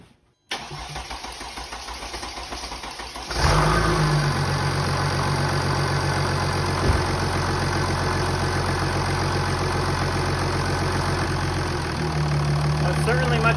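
A CRD diesel engine cranks with a faint whir, then catches about a third of the way in and settles into a loud, steady, slightly knocking idle close by.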